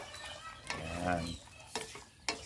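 Goat caldereta gets stirred in a cooking pot: a few soft scraping strokes over a gentle simmer, close and fairly quiet, with no talking.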